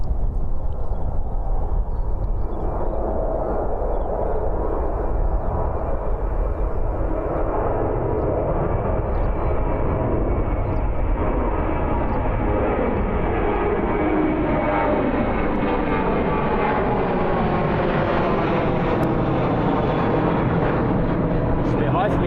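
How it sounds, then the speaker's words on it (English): A Jetstar Airbus A320 airliner comes in to land at Christchurch airport in a northwesterly crosswind, a loud steady engine roar with a slowly rising whine that builds across the whole stretch. "Here we go, Jetstar A320 rocketing down."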